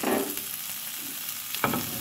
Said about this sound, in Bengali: অল্প অল্প করে সব কিছু ফ্রাই করবেন